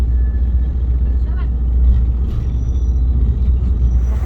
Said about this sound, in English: There's buses here.